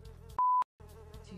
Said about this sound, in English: Ma'am, there's a fly!